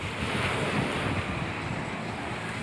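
Sea waves washing on the shore with gusting wind buffeting the microphone at the seaside, a steady loud rushing wash with no voices.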